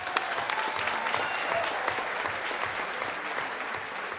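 Steady applause from an audience at a city council session launching a parliamentary front supporting capoeira, dense clapping sustained throughout without pause, no speech over it.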